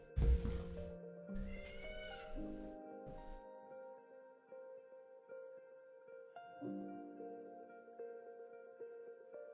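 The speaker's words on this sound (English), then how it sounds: "Let me go see what he's meowing about." A cat meows indoors, several meows in the first few seconds up close, followed by a quieter stretch with a steady tonal hum in the room.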